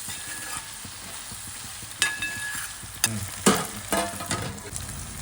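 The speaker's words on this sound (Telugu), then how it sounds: "మొత్తం అంతా కలిసే విధంగా ఒకసారి కలిపేసి ఇప్పుడు ఇది మూత పెట్టి ఒక రెండు నిమిషాలు వంకాయ మగ్గనివ్వాలండి" A spoon stirs brinjal pieces and raw prawns frying together in a pan, giving several sharp scraping clatters over a soft, steady sizzle, with no voices.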